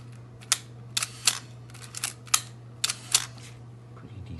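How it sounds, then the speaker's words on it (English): Shutter of a vintage film camera such as a Nikon F, Minolta X-700 or Olympus OM-1, fired several times in a row, giving crisp close mechanical clicks and snaps over a faint steady hum. "shutter is working very well."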